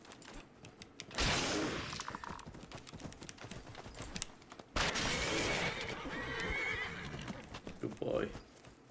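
A horse in a Skyrim-style fantasy video game neighs loudly twice, each whinny followed by clopping hooves, close and clear against quiet game ambience.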